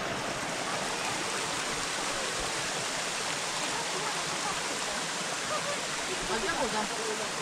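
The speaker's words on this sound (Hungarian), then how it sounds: "Szép mohás vízesés." A mossy forest waterfall in Transylvania pours with a constant, even rushing hiss, close and unbroken throughout, with no clear talking over it.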